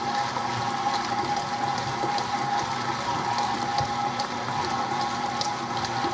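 A stand mixer whirs steadily as it beats fruitcake batter, a constant motor hum with a faint rattling churn, close and unbroken with no talking.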